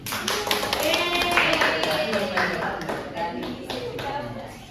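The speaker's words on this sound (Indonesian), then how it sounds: "tepuk tangan untuk Novi" Classroom clapping during a micro-teaching lesson on circles, a short round of sharp, fairly close hand claps that build and then taper off, with talk faintly present.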